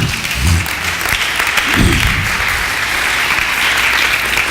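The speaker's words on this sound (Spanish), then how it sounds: "Le podemos dar una ofrenda de palmas al Señor." A church congregation gives sustained applause, dense and loud clapping filling the room without a break, with a couple of low thumps near the start.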